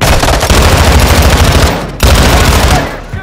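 Loud, dense automatic gunfire in Modern Warfare 2, a sustained burst of rapid shots that drops off briefly and then resumes just as heavily.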